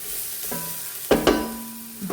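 Onions sautéing in coconut oil, a low sizzle punctuated by a few distinct spatula scrapes and knocks against the pan, close and moderately loud with no voices.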